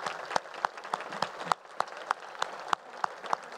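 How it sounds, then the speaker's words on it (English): A conference audience applauds at the Borlaug Dialogue, a short burst of fairly faint, distinct claps from a modest crowd in a hall, with rhythmic peaks standing out from a softer wash. "So let's have another round of applause"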